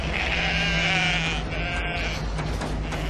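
Sheep bleating on the Yorkshire moors at night in an audio drama, two long wavering bleats close by, the second following a brief dip, set over a steady low background.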